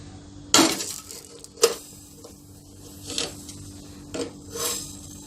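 A metal cake mould set down onto a stand inside a pressure cooker while baking an eggless chocolate walnut cake, giving a couple of close, sharp metallic clinks followed by softer scrapes and taps.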